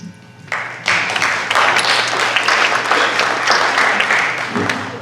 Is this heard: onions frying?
no